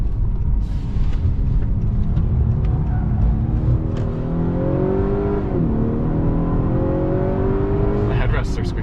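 A 2021 Honda Accord 2.0T Sport's turbocharged engine revs and accelerates from inside the cabin, its steady drone climbing in pitch through gear changes, with people talking over it.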